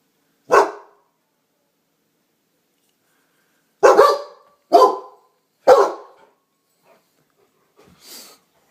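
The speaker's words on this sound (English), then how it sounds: "sorry about my dog. She sees people outside." A dog barks sharply and close by indoors, one bark, a pause, then three quick barks in a row and a softer final yelp, with silence between.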